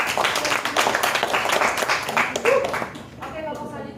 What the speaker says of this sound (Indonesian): beri aplaus dulu kepada kelompok